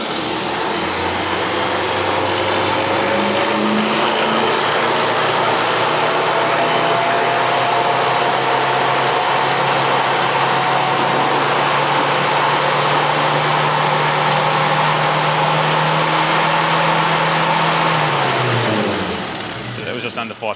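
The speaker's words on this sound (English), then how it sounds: "I'll just go through the rev range and see what we've got" A classic Mini's engine, its carburettor fitted with an AAE needle, revs steadily up through the range in a long sustained climb, then drops away near the end; a loud, constant mechanical drone throughout.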